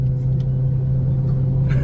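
A Dodge Hellcat widebody's engine rumbles steadily with a deep low idle-like drone, loud and close, holding even throughout without a distinct rev peak.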